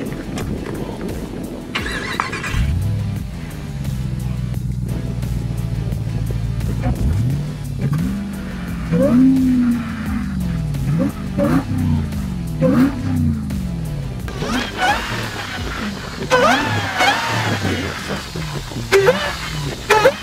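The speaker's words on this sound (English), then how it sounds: "we'll give it a couple revs so you can hear what that Hellcat sounds like through our MagnaFlow exhaust system" A supercharged Hellcat V8 engine in a 2024 Jeep Wrangler idles with a deep burble, then revs several times through a loud MagnaFlow exhaust, each rise and fall distinct, close up.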